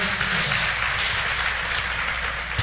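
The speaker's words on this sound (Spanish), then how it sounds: "Démosle un fuerte aplauso al Señor" A church congregation claps in steady, sustained applause, a dense wash of many hands filling the room evenly from start to finish.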